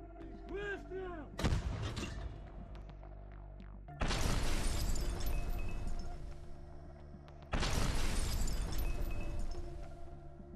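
Artillery fire from a brigade pounds bunkers and deployment points in Volnoy Pole, with heavy booming blasts at about 1.5, 4 and 7.5 seconds, each followed by long rumbling decay, loud and close.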